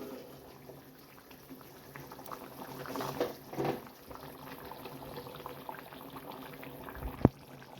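Garlic dried fish (karuvadu) curry simmers in a pot on low heat, giving a soft continuous bubbling that swells briefly in the middle. A single sharp clink near the end stands out, and no one speaks.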